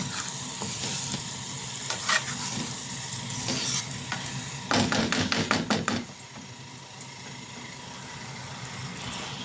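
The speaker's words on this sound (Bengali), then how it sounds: "তো এটাকে আমি অল্প একটু পরিমাণে শাহি গরম মশলা দিয়ে ভালো করে নেড়ে নেব" Egg curry being stirred with shahi garam masala in a pan, a soft sizzle under repeated scraping and knocking of a spoon, with a quick burst of clattering strokes in the middle before it settles down.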